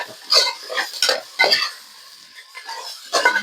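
Masala with chili powder, mutton masala and garam masala being sautéed in a pan for chicken biryani, heard as a series of short scraping stirs with a spoon, each a quick burst with brief pauses between, close and moderately loud with no talking.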